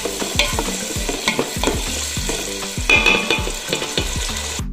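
Fresh tomatoes and tomato paste sizzle over high heat in a pot as a spoon stirs them, giving close rhythmic scraping taps over a steady frying hiss, with no voices.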